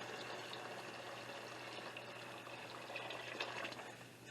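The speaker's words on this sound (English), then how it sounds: "we're just going to add a little bit more water." Water being poured into a pan on a stove while making cheesy potato dumpling soup, a steady, faint splashing trickle that runs without pause and swells slightly toward the end, with no talking.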